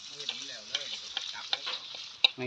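Pork is stir-fried in a hot pan, giving a bright, continuous sizzle broken by quick, rhythmic scraping strokes of a spatula, close and fairly loud.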